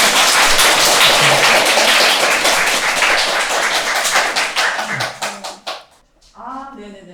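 Sustained audience applause for a lecturer at a Buddhist meditation centre's open dharma talk, dense clapping for about five seconds before thinning out, followed by a voice speaking.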